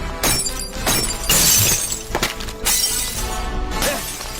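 Thrown stones smash glass in a rapid series of sharp, loud shattering crashes, several bursts of breaking panes close by over about four seconds.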